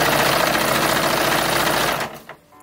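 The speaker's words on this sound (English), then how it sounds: "we are now going to sew the backs to the fronts" A sewing machine runs steadily and loudly, stitching the back and front bodice seams of an 1850s-style infant dress, then stops abruptly after about two seconds.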